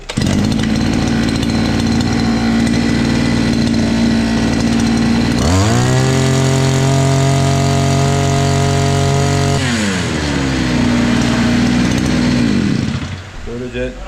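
A motorized brush cutter's two-stroke engine runs loud and close, idling, then revving up high for several seconds before dropping back and sputtering as it is choked off at the end. A voice talks faintly over it.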